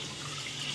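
Water from a running tap splashes steadily as something is washed under it, a brief close hiss with no talk.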